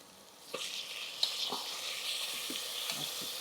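Tomatoes frying in a hot pan at home, giving a steady close sizzle with a few sharp stirring clinks and scrapes scattered through it, no voices.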